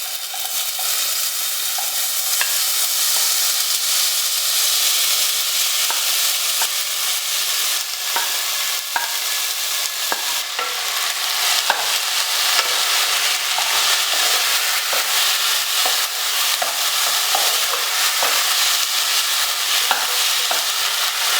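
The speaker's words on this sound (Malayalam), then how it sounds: "കടായിലേക്ക് അര ടീസ്പൂൺ നെയ്യ് ഇടാം ഇതിലേക്ക് അരിഞ്ഞു വെച്ചിരിക്കുന്ന ചക്ക ഇട്ട് വഴറ്റാം" Chopped jackfruit sautés in ghee in a kadai for a Kerala chakka ada filling, a close, continuous crackling sizzle with scattered scraping stirs, steady and loud without any talk.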